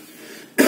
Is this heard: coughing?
yes